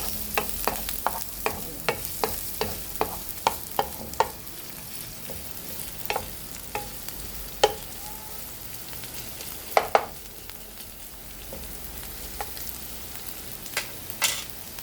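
Corned beef frying in a small amount of cooking oil, with steady soft sizzling and a run of sharp clicks and taps from stirring against the pan, close and alone without talk.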